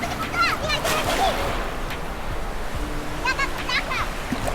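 Rushing surf and splashing water from strong waves at a Desaru beach churn steadily while children's voices call out over it in short bursts.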